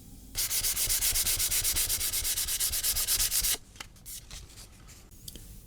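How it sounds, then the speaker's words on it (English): Oak wood with an old varnish finish is hand-sanded with 400 grit sandpaper, a loud rapid rasping back and forth in steady strokes for about three seconds, then quieter scattered rubbing, close and alone. "So I have some 400 grit sandpaper for a very final light sand"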